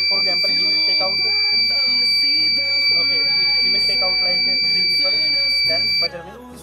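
Visitor counter project buzzer sounding continuously once the room limit is reached, a steady high electronic tone held for about six seconds before cutting off, with a voice talking over it throughout.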